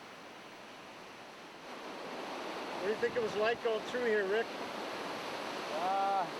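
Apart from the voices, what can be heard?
river rapids rushing in the Yukon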